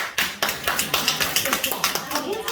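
A small group claps in a steady rhythmic pattern during a hair dye demonstration session, about a dozen sharp evenly spaced claps, fairly close, with voices talking over them.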